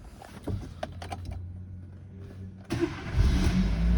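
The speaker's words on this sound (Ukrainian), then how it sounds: "Заводиться автомобіль чудово, працює мотор рівно, без помилок." A 2011 Chevrolet Aveo's engine cranks and catches, settling into a steady low idle, then rises in a louder rev near the end, heard close with no talking.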